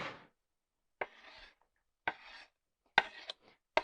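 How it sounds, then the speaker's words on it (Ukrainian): A knife dices garlic into small cubes on a cutting board, giving four or five short, crisp chopping taps spaced about a second apart, close and fairly quiet against silence. "я його не тру, я його саме нарізаю кубиками"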